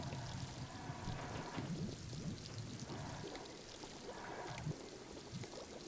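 In a LittleBigPlanet 3 sink, a continuous stream of water pours into a cup, a steady splashing gush that carries evenly from start to end without anyone talking.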